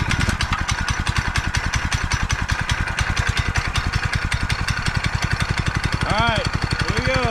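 A homemade rope tow's engine runs loud and close after being cranked up, with a steady, rapid chugging pulse throughout and a voice briefly heard near the end.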